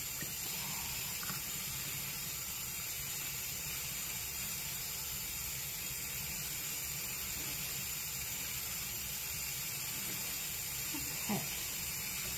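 Water runs steadily from a tap into a sink as a doll is rinsed, a constant close splashing hiss lasting throughout with faint background sounds and no clear speech.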